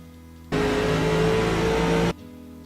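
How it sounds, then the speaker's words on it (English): Race car engine in the iRacing sim at Richmond revving hard in one loud sustained burst of about a second and a half, starting and stopping abruptly, with no other sound around it. "you can hear his motor. Listen to his motor."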